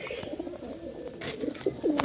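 Old household pigeons kept for breeding coo softly and intermittently close by, with a few brief chirps, quiet against faint background noise.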